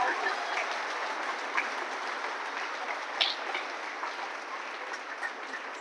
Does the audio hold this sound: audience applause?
yes